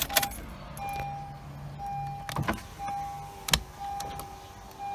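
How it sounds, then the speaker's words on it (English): Power windows on a 2013-2015 Honda Civic roll down, each motor giving a steady high whine that starts and stops several times, broken by a few sharp clicks and thumps from inside the parked car. "First thing you want to do is roll down all your windows."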